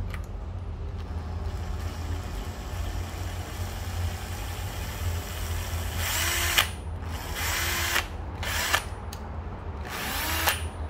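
A Japanese used 10.8V cordless drill runs in short bursts with a rising whir, spinning up several times in quick succession after a stretch of low background hum, close and fairly loud.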